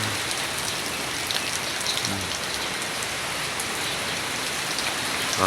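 Steady heavy rain with strong wind from Typhoon Emong hisses down without a break, a dense close wash of drops that stays constant throughout.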